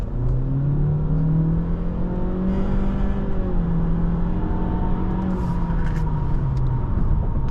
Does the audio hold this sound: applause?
no